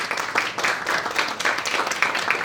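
Audience applause at a town forum, a dense, steady patter of many hands clapping together at moderate loudness.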